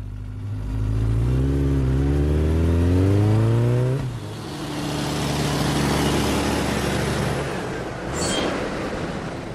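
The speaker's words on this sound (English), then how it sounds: "Motorcycle." A motorcycle engine revs hard, climbing in pitch through several seconds of loud throttle. It drops off into a rushing pass-by roar and then a steady idle-like drone, ending with a brief high squeal.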